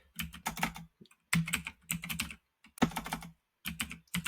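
Bursts of rapid keyboard typing, close and crisp, come in several clusters separated by short pauses.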